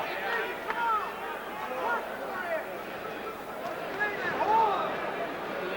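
Crowd murmur fills a boxing arena at Tingley Coliseum before a pro bout: a steady babble of many distant voices with scattered whistles and shouts, with a commentator talking over it.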